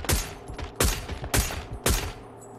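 Four loud bursts of automatic gunfire in a video game shootout come in quick succession, each a sharp crack with a short rattling tail, close and with no voices over them.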